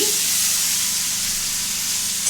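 A drumstick, potato and bean curry sizzles in a pan while being stirred, a steady, close frying hiss that holds at an even level throughout.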